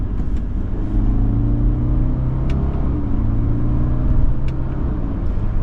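Interior drone of a 2025 Subaru Forester Sport's CVT stepping through simulated gears via paddles: steady engine rumble with small pitch drops at each shift, moderately loud, no talking.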